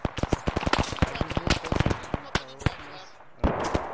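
Rapid gunfire in the flight combat game DCS World, with dense bursts of sharp shots and bangs fired in quick succession, loud and close, followed by a few scattered later cracks; a voice talks faintly over the radio.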